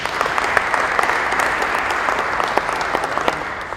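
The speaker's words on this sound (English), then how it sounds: "Let's give them a big round of applause." A crowd claps steadily throughout at a school matric awards ceremony, a dense crackle of applause at even volume with no cheering or talk above it.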